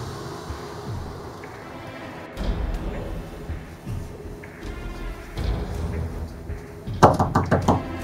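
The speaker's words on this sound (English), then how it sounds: "Hey, Jim, open up your door." Knocking on a door indoors, a few heavy thuds spaced out in bursts, then a quick run of sharper raps near the end, fairly close and loud with no talk over it.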